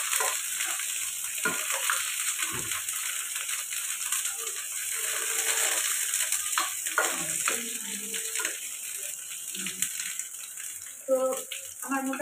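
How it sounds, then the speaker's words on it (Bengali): Brinjal frying and being stirred in a pan with a constant close hiss of oil, broken by scattered clatters and scrapes of the spatula, growing busier near the end. "বেগুনগুলো একটু লাস্ট একটু দিয়ে দিয়ে একটু এমনি নেড়ে নেবো খালি"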